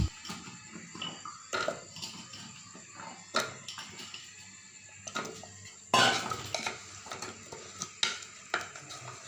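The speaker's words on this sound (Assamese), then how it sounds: "এতিয়া গোটেইখিনি ভালদৰে মিহলাই লৈ ভাজি ল'ম।" Potatoes and black chana are stirred and fried in a pan for an Assamese ghugni curry. A spoon clatters and scrapes against the pan in irregular bursts over a faint sizzle, with no talking.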